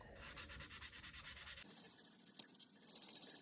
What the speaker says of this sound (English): Now I'm using a 1500 grit sanding block